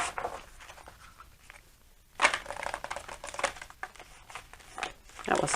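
Soft papery riffling and flicking of tarot cards being shuffled, in short bursts with a pause, then a sharper flurry of card snaps.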